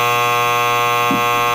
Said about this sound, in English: buzzer is for you saying you were going home at 4.